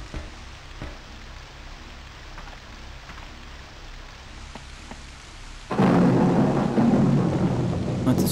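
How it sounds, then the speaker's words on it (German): A thunderstorm in the PS1 game Nightmare Creatures II: a quiet stretch of faint ambience, then a loud, sudden surge of thunder with heavy rain that keeps roaring to the end. "Und es stürmt und gewittert ununterbrochen hier draußen."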